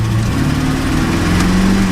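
A project truck's engine runs loud and close, a steady low rumble with no pauses.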